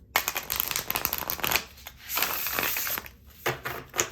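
Tarot cards being shuffled by hand, a close, crisp riffling and flicking in bursts with brief pauses, alone with no talk.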